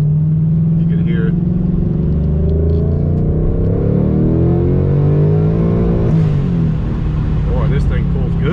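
A boosted 2019 Mustang Bullitt engine revs and accelerates with a loud, close rumble that rises in pitch through the gears, with someone talking over it.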